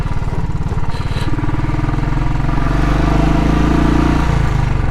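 A Royal Enfield Classic 500 single-cylinder motorcycle rides along a winter road, its engine thumping steadily and loudly close by, with the pulse rising into a higher drone partway through and no voices.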